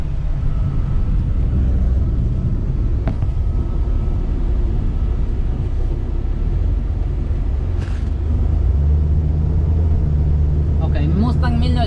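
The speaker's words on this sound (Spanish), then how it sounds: "el día de hoy andamos en un Mustang 1971 con el motor 351" A 1971 Ford Mustang with a 351 V8 engine cruising along, its steady low engine rumble and road noise droning continuously from inside the cabin, with a slight change in tone near the end.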